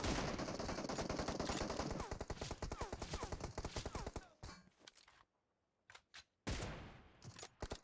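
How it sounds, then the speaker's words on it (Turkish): Rapid automatic M416 rifle fire in the mobile game PUBG Mobile, with dense, loud bursts of shots that thin out into a few scattered single reports after a short gap. "Apo ben M416 ile baskı yapıyorum"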